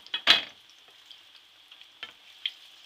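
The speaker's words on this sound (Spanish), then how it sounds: "una cosa que se llama plátano macho frito" Ripe plantain (plátano macho) slices fry in a pan with a close, steady crackling sizzle, punctuated by a few louder pops and scrapes as the pieces are moved.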